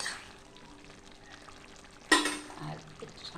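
Ghee sizzles in a pan of rice cooked with pointed gourd. A faint, steady frying hiss is broken by a sharp burst of sizzle about two-thirds of the way through, then fades back to a low simmer.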